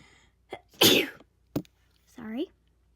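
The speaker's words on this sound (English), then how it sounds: "I'm gonna sneeze." A single sharp sneeze bursts out close to the microphone, followed a moment later by a short breathy sound and a brief spoken word, with quiet surroundings between.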